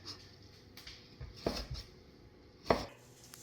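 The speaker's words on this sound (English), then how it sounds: "Now we are going to slice up the Chinese sausage" Knife slicing Chinese sausage on a board for a steamed pork patty with preserved vegetables: a few soft, separate cuts, with two sharper chops standing out over a quiet kitchen background.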